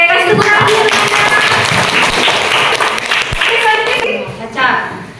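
Students in an Indonesian classroom clap together for a classmate, a close, busy patter of many hands that holds steady and then tapers off, with a few voices mixed in underneath.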